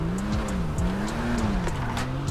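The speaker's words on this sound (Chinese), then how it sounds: "嚯，打滑嘞，哎，才刚出来就打滑" Tires squeal and skid on a Nebula Turbo muscle car in GTA 5, a continuous wavering screech over a loud engine drone, up close with no talk.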